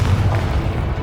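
Confringo blasting spell explosion in Hogwarts Legacy, a deep continuous rumbling boom that fills the whole moment, loud and close with no clear separate bursts.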